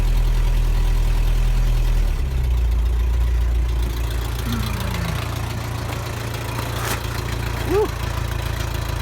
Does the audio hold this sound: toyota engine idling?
yes